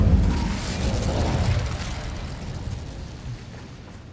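The Incendio fire spell is cast in a Harry Potter video game, inside a cave, as a deep rumbling burst that swells at once and then slowly dies away over several seconds.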